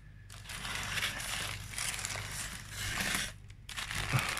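Styrofoam packaging around a shrimp parcel is handled, giving loud squeaky crushing and crinkling in a few long bursts with brief pauses, close to the mic and without talk.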